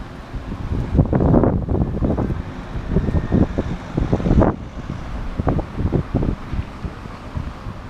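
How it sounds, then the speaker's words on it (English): Wind on a Mediterranean beach at Larnaca, Cyprus, with waves along the shore, a loud gusty roar that buffets the microphone in uneven surges, no speech. "It's a lot windier today."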